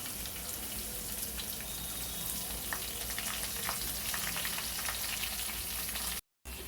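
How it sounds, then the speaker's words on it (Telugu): Onions frying with dry prawns in a pan for a ridge gourd curry, a soft, even sizzle with faint crackles throughout, broken by a brief dropout near the end. "ఉల్లిపాయలు వేసుకుందామండి"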